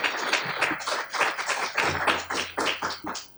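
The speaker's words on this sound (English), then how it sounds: "let's give Madhuri a big round of applause" An audience at a New York State workforce training event claps for a speaker, with loose, close, uneven hand claps that start full, thin out, then bunch up again.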